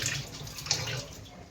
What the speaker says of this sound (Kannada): ಹ್ಯಾಂಡ್ ವಾಶ್ ಮಾಡ್ಕೊ, ಕೈ ತೊಳ್ಕೊಂಡಿಲ್ಲ ಕೈ?